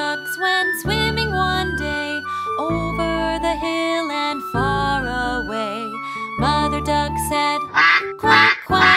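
Cartoon ducks quack in a children's nursery rhyme, with bright music and sung melody carrying throughout and a burst of squawky quacks near the end.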